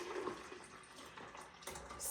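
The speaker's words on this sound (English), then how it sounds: "take the thin strainer and pour the Jamaica into the pitcher" Hibiscus agua de Jamaica is poured through a thin strainer into a pitcher, a quiet, continuous liquid splash and trickle with a few brighter gurgles near the end.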